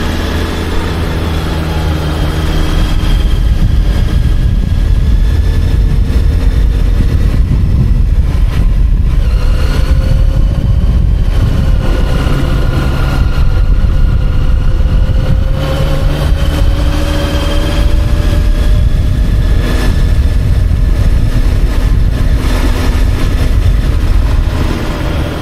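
A VOGE RR660 motorcycle engine, 100 hp, running steadily in third gear, with a continuous loud low drone and a few gentle rises in revs throughout, with no talking.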